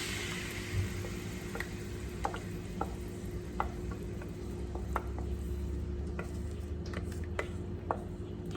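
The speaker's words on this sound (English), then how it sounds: "now I'm going to add this gravy into it" Butter chicken gravy cooks in a pan. Faint stirring clicks and scrapes come at irregular intervals over a low, constant background hum, with no voices.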